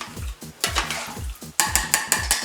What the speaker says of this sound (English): Alright, get all that salt off that spoon